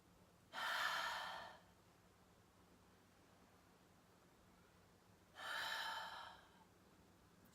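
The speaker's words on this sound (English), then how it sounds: "So start with some deep, full, huge, long breaths" Two long, deep breaths during a guided meditation, each a broad airy exhale lasting about a second, well apart and close in an otherwise quiet room.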